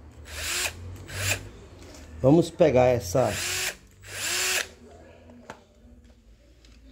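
An old electric power drill whirs in several short bursts, close by, with someone speaking between and over the runs.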